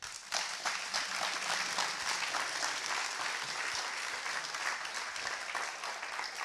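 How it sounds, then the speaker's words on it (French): Dense, steady applause fills a hall at a master's diploma and junior prize ceremony as an award recipient comes forward, many hands clapping at once from a moderate distance with no voices over it. "j'appelle Angélique Campagnello, qu'on peut applaudir"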